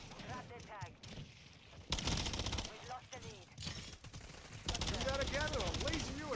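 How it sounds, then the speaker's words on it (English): Rapid bursts of Ripper SMG fire in Modern Warfare III multiplayer on the Shipment map, loud stuttering volleys broken by short gaps, with a player talking between and over the shots. "Let's try the Ripper. This is probably the best SMG in the game"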